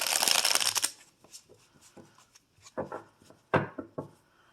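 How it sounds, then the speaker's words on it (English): Tarot cards riffled and shuffled in a burst of dense, close papery flutter, followed by softer scattered taps and slides as the deck is squared and handled, no voice over it. "Okay, we're going to shuffle one more time."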